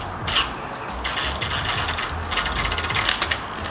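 Ratchet snugging a nut on a Nissan 350Z / Infiniti G35 front lower control arm: quick bursts of metallic clicking at about two points, over a low background hum, close by and without talk.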